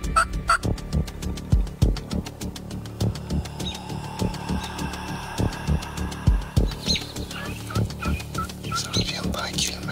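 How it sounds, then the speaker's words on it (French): Wild turkeys in a field at daybreak, a big tom with seven hens, gobbling and clucking over and over at close to middle distance, with repeated sharp bursts and a steady low drumming throb underneath. "Au lever du jour, les dindons sont descendus de leurs arbres puis se sont envenus vers nous dans le champ."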